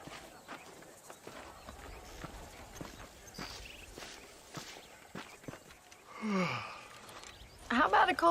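Horse hooves clip-clopping at a walking pace in the Red Dead Redemption video game, a steady run of soft hoofbeats in the foreground, with a brief snort or whinny-like sound near the end.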